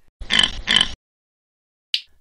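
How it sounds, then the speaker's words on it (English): A pig gives two close, loud oinking grunts in quick succession, each about a third of a second long, followed by silence and a brief faint higher noise. "Pig."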